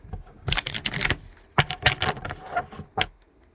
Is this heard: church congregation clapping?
no